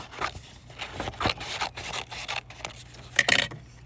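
Scissors cutting paper for crafting outdoors on a deck, close and quiet, with irregular snips and rustling slides of the paper, a brief sharper crinkle near the end.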